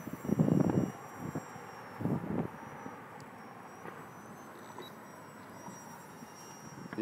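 An FMS P-47 800mm RC warbird model flies aerobatics and inverted passes, a thin high electric motor whine drifting at a distance over wind buffeting the microphone.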